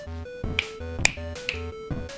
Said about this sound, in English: I was snapping my fingers, just trying to be more sassy